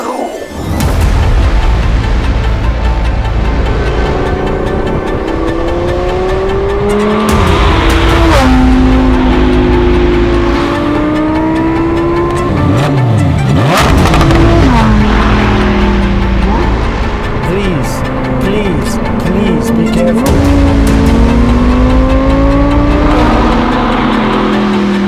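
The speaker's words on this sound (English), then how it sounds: "Lamborghini made the STO, Super Trofeo Omologato, which is basically the homologation version of the ST Evo" A Lamborghini Huracán STO supercar roars close by, its engine revving hard through repeated upshifts and surges with rising and falling pitch, loud and continuous throughout with brief drops between gears.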